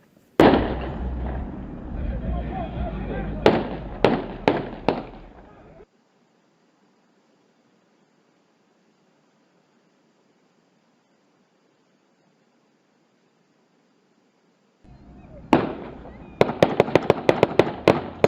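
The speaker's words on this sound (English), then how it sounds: "This same subject is the first to shoot, which instigates a major gunfight." Gunshots in a gunfight during a sheriff deputy involved shooting: sharp, loud cracks in quick bursts, with a cluster early on, a long silent gap, then a rapid volley of shots at the end, over background noise.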